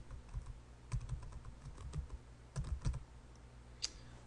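Typing on a computer keyboard to enter a Google search, with short bursts of key clicks and a final sharper keystroke, close and fairly quiet, no talking.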